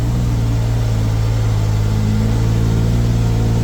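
A vehicle engine hums in a close, steady, unbroken drone while it drives through water without a snorkel.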